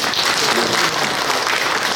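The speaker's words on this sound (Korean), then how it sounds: "박수 한번 좀 부탁드립니다" Dense, steady applause from an audience at a residents' association annual general meeting fills the whole stretch, a broad wash of many hands clapping at once with no talking over it.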